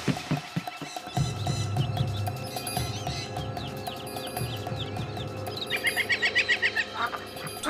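Cartoon birds chirp and tweet at a bird reserve beside a canal, with a steady ambient bed underneath and a burst of rapid high twittering near the end.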